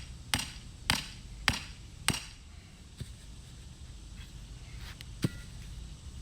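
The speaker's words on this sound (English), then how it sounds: "A couple more whacks." Wooden or plastic pegs are whacked into a skeleton stand: four sharp, loud hammer-like knocks at a steady beat, then a softer tap and one more crisp knock after a pause, with no talking.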